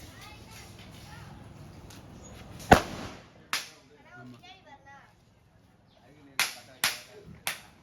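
Diwali firecrackers go off in a village: one sharp, loud bang, another shortly after, then a quick cluster of three cracks near the end, with people talking and shouting between the blasts.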